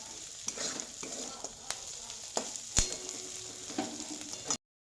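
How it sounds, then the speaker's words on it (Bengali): Soft sizzling of peas and chopped chillies frying in a pan, punctuated by several sharp scraping and stirring knocks at irregular intervals, close by and without speech. "আর কড়াইশুঁটিটাকে ভেজে নিচ্ছি, আর সাথে লঙ্কা কুচিটাও আছে"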